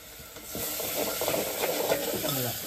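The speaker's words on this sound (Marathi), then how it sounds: "शेवली बघा फोडणी दिली. आवाजाला छान छान मस्त पैकी." Spices crackling in hot oil as a tempering is added for a shevli (Tradescantia) vegetable curry with chilli powder and turmeric, a steady close sizzle with faint stirring clatter.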